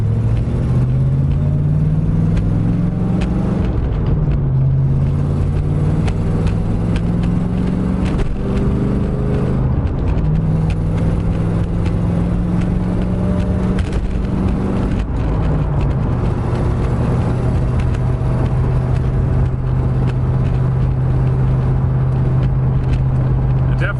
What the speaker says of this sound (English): So I'll go a little bit quicker here, try and get up to freeway speed now that we're on the highway.